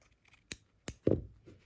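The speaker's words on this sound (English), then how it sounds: "So I just come up close with my scissors and just trim" Two crisp, close snips of scissors cutting through quilt fabric edges, followed by a soft rustle of cloth.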